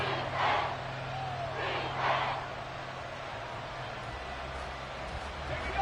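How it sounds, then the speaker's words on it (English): Crowd noise in the Madden 24 football video game during a Jets versus Seahawks matchup, a broad roar that swells twice in the first half and stays steady under a low drone. "Crowd getting in it a bit already."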